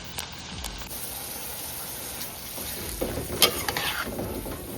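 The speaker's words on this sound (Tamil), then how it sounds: "எண்ணெயில் போட்டுக்கோங்க. இதை நல்லா வதங்கட்டும்." Peeled garlic frying in hot oil for a chutney, a soft steady sizzle with faint stirring clinks that pick up toward the end, close but fairly quiet and without speech.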